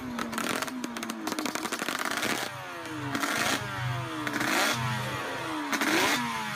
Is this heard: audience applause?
no